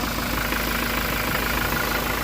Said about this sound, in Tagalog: So ito yung kanyang makina mga kabady, tignan nyo naman yung andar niya.